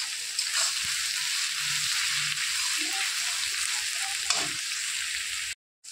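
Onions fry in hot oil while being stirred for a mutton kosha dish, a steady close sizzle broken by soft scraping and stirring strokes, continuing until a sudden cutoff near the end.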